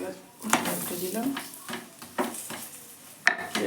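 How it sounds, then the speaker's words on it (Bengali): A pea-stuffed paratha fries in white oil in a pan, a soft sizzle punctuated by several sharp clinks and scrapes of a utensil turning and brushing it. "তেল দিয়ে ভেজে নেবো, সাদা তেল দিয়ে"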